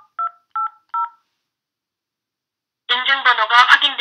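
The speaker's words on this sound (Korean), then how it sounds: "전화기의 터치패드를 이용하여 화면에 표시된 네 자릿수의 인증번호를 입력해 주십시오." Three short, evenly spaced touch-tone beeps from a telephone keypad entering a four-digit verification code for an automated AWS phone verification line, followed after a pause by a recorded voice speaking.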